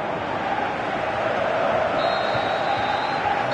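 A football video game stadium crowd roars steadily and densely, a constant wall of massed voices urging a player to shoot, with no clear swell or break.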